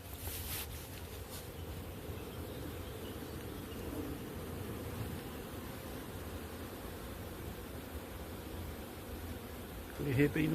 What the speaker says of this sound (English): Perhaps you can, if we get closer, you can hear bee noises.